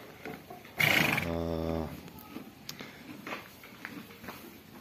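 A six-month-old foal gives one loud, close whinny of about a second, shaking downward in pitch, followed by faint shuffling and soft knocks around a farmyard.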